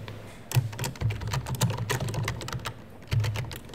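A bookmark name typed on a computer keyboard, a quick run of close key clicks with a short pause before a few final strokes, heard alone.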